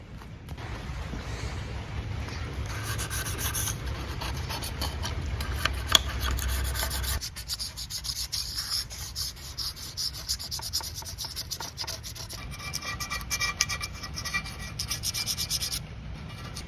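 Scraping old silicone sealant off the mating surfaces of a Liberty 5-speed gearbox case during a gear change, heard as steady close rubbing and rasping strokes with no talking.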